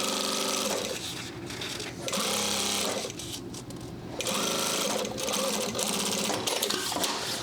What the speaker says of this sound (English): go ahead and fold it over and top stitch this guy